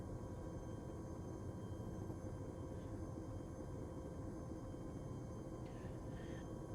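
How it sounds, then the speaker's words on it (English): Steady, heavy rotor and engine rumble of a military helicopter in the video game Arma 3, droning continuously and evenly throughout with no distinct voices. "Let's jump in the other helicopter."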